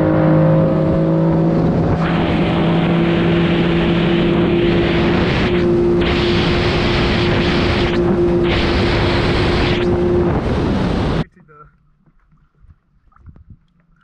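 A Yamaha GP1 personal watercraft with a tuned 1050 engine running close by, a loud steady drone with a tonal whine that holds for about eleven seconds and then cuts off abruptly, leaving quiet water and faint knocks.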